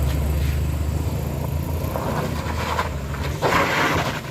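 A Toyota truck powers up the rough Batu Jomba road, a heavy, steady low engine rumble that swells slightly near the end, close and loud with no clear voices.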